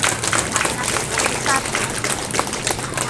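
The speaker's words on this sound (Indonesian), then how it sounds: "Tepuk tangan buat Pak Kepala Distrik." Crowd applause at the opening ceremony of the KNPI Deiyai Cup football tournament, honouring the district head: steady clapping throughout with some voices mixed in.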